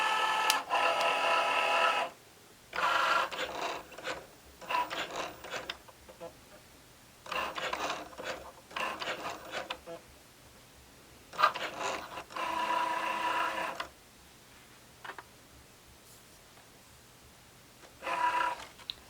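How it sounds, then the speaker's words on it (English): A Cricut Joy cutting machine writes on a greeting card held on a card mat, producing bursts of mechanical whirring and buzzing separated by short pauses as the pen carriage moves, fairly close and without talk. "Then we'll just let Joy do the writing on our card for us."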